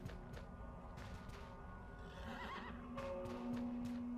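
A horse in the video game Weird West whinnies and snorts close by, with soft hoof clops and a steady low background hum.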